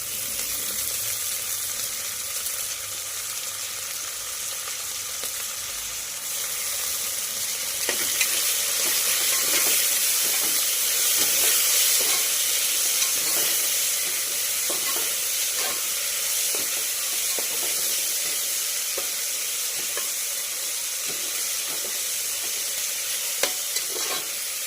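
Fresh coriander and mint fry in hot oil in a pan while being stirred for tomato rice, a continuous close sizzle with scraping stir strokes and no talking.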